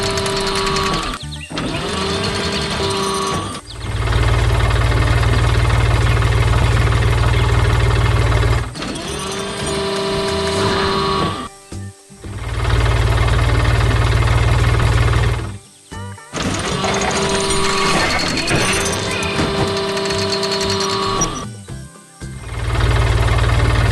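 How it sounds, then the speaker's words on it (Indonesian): Animated blue JCB tractor with a loader working in a flower garden, a steady buzzing engine drone with brief pauses and shifts, loud and close throughout with music-like tonal layers. "traktor biru yang sedang bekerja keras di tengah kebun bunga"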